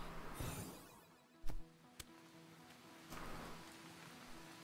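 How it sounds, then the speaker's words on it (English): Acid rain falls on an alien planet in the game Starbound, a steady soft hiss of rainfall with a couple of sharp drip-like clicks standing out briefly. "We have acid rain."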